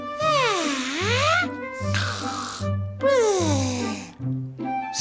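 Exaggerated cartoon snoring from a sleeping princess character in a children's story: loud, rhythmic snores with sweeping whistling exhales over a low droning tone, repeating in regular cycles.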